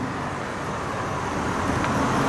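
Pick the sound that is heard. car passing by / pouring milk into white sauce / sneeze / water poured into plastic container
car passing by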